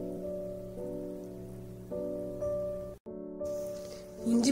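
Ginger garlic paste sizzles steadily in hot oil in a pan, a continuous crackling hiss with a few louder bursts and a brief drop near the end, under a faint steady tonal hum.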